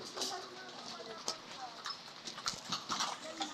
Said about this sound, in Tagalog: Ayun no, kabayo